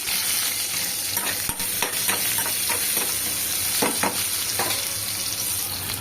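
Onions fry in a pan, giving a steady, close sizzle with scattered crackles and stirring scrapes throughout, and no voices.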